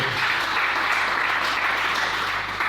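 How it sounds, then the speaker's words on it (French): A church congregation bursts into loud, continuous applause for the Lord, a thick, even roar of clapping with no talking over it. "Est-ce qu'on peut acclamer le Seigneur?"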